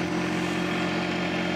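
A tractor fitted with a backhoe and a bigger curl cylinder, its engine held at wide open throttle, gives a steady loud droning hum with a firm low pulse and no break, close by with no talk.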